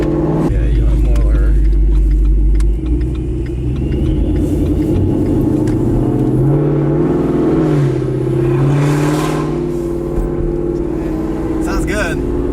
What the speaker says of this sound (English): This is the Corsa Extreme exhaust with Mac cat deletes.